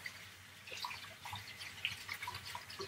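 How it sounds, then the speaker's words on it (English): Tap water runs into a sink as hands are washed during home cake baking, a soft, steady splashing with small drips, fairly faint and with no talk over it. "After you do eggs, sometimes you need to wash your hands."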